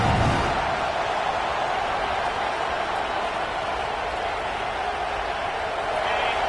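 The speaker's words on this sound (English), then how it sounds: "This crowd bringing the energy and noise early." A loud, continuous roar of a large stadium crowd in the video game EA College Football 26, USC vs Clemson, a dense wash of cheering and noise that holds steady throughout.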